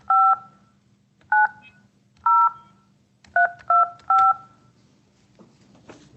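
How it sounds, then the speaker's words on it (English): Touch-tone telephone keys are pressed to dial a number, giving six crisp DTMF beeps at an uneven pace, clear and close over a faint hum, followed by a soft clunk. "Please dial the 7-digit phone number of the person you wish to speak with"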